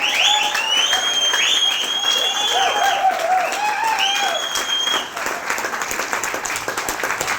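An audience claps and applauds steadily throughout, a dense crowd clatter near the microphone, with a tonal buzzer-like sound and some voices mixed in.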